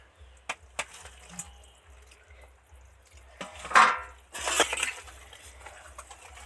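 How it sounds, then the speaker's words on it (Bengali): Soft bubbling and dripping from katla fish curry with fried okra simmering in a wok, with a few light clinks and a louder burst of wet popping near the end. "কড়াতে টুকবুক টুকবুক করে তরকারিটা ফুটছে"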